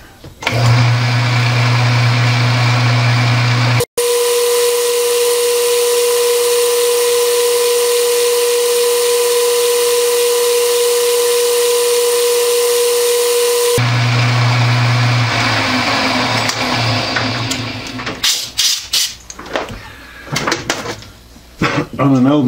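A leadscrew being cut on an old lathe with backlash, a steady loud machining drone with a mid-pitched tone that cuts out briefly, then resumes and breaks into irregular clatter and knocks near the end.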